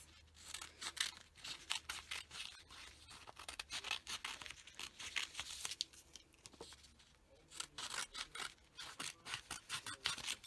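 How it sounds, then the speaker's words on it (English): Scissors snip through thin regular vinyl in quick repeated cuts, a close, crisp run of short slicing strokes with brief pauses, no voices. "you just want to cut a little piece off. You're going to want to cut 4 pieces so it can go on all sides."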